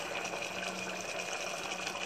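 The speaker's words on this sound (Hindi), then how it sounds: "तो जो छोले में उबालते समय पानी बचा था वो हम डाल दे रहे हैं" Leftover water from boiling chickpeas being poured into a pot of restaurant-style chole, a soft continuous gushing pour heard faintly and alone.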